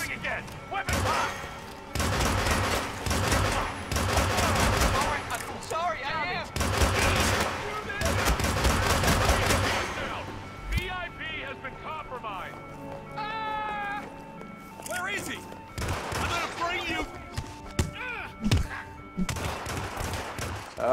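Gunfire in the Hitman video game, bursts of shots and automatic fire in the first half, followed by cat-like meowing and other game sounds, with voices speaking over it.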